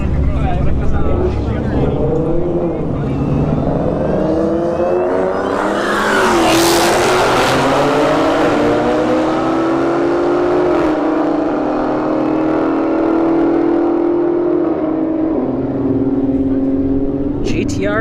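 Nissan GT-R in the right lane and Hellcat Challenger in the left launch in a street drag race at a motorsports park, engines roaring loud and close with rising revs and a sharp burst of noise, a commentator talking over them.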